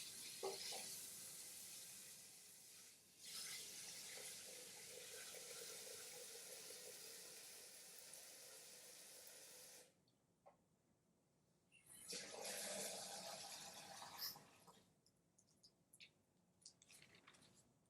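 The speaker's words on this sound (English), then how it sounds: "So I'm pouring water into this." Water poured into a container, a steady splashing stream that stops partway, resumes for a couple of seconds, then trails off into faint drips; no one speaks.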